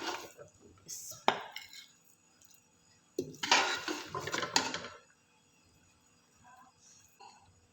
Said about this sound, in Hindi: अब हम इसको करते हैं डिश आउट